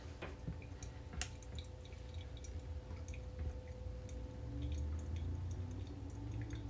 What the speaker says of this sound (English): now we are just going to go ahead and get our coffee dripping in there